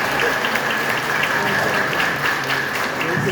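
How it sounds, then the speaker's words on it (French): A crowd at a school event applauds the primary section director, a dense, continuous burst of clapping that holds at full strength from start to finish. "ça mérite de toute façon l'applaudissement"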